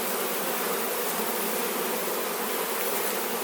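Honey bees drone in a dense, steady buzz from an open hive during an inspection, a close, continuous hum with no talk over it.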